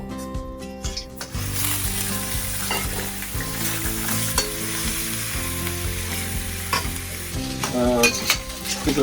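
Sichuan twice-cooked pork stir-fried in oil in a Chengdu home kitchen: a steady, loud sizzle with repeated clanking spatula strokes against the wok, no talk.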